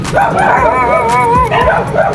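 Dogs make yelping, whining barks with strained, wavering cries, loud and close, over a steady rumbling background.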